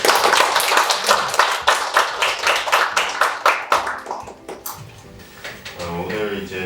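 Audience applause at a Korean unification forum on Trump administration strategy toward the Korean Peninsula, dense steady clapping for about four seconds that thins out and fades, followed by a voice beginning to speak.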